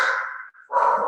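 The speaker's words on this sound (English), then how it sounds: "sorry about my dog, there's people coming to my door" A dog at home barks at people arriving at the door, two quick close barks separated by a brief pause.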